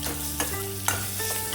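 Marathi-style tempering for tamarind kadhi, hot oil with curry leaves, sizzling steadily and close up, with a couple of brief crackles and pops over the continuous fry and no talk.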